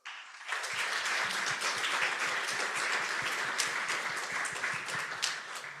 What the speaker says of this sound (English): So please, a warm applause for my panelists.